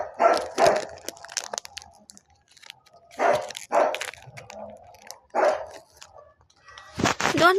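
A pet dog barks indoors in several loud, close bursts of two or three woofs spread across the stretch, with quieter rustling and faint sounds between them.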